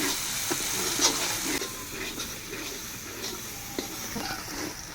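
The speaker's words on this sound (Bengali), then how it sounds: "কাশ্মীরি লঙ্কার গুঁড়ো আর দিচ্ছি স্বাদ মতো লবণ তারপরে ভালো করে মশলাটাকে কষিয়ে নেবো" Spice paste of tomato, Kashmiri chili powder and salt fries and is stirred in a pan for a yam and rohu fish curry, giving a steady, fairly quiet sizzle with occasional soft scraping, and no voices.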